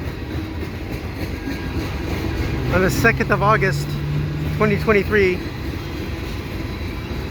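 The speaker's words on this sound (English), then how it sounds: "here's this CSX train" CSX freight train 327 rumbles steadily past on CN track at Dorval, Montreal, on a late summer afternoon, its continuous rolling noise heard under someone talking.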